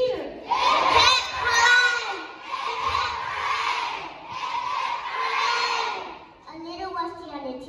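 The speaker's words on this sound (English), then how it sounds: "so everybody join me and give a big cheer" Children's voices shout and cheer together in a sung baseball-themed song, rising in loud, sustained bursts with short dips between them.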